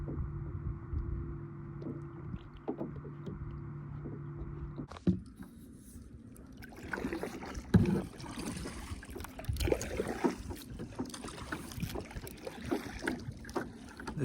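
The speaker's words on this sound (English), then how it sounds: "I've been paddling away from shore for a while." A kayak is paddled on a large Minnesota lake, with soft, faint paddle splashes and trickling water in a rhythmic series and light wind in the background.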